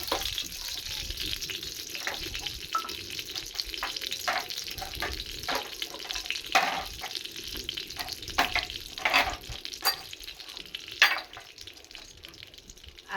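Ghee sizzling in a pan for paneer malai kofta curry, a steady close frying crackle broken by scraping stirs and a few clinks, with no talk over it.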